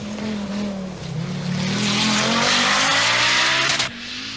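An Audi Quattro S1 rally car with its 20-valve five-cylinder engine roars past at full throttle, a loud rising howl that swells, holds and then cuts off sharply near the end, with no voices.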